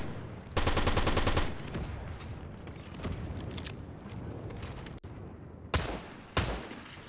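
Bursts of gunfire in a Fortnite duos match: a long rapid automatic burst near the start, steady game noise through the middle, then two sharp shots near the end.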